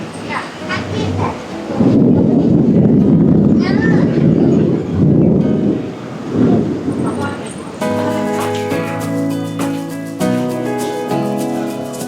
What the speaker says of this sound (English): It is thundering now.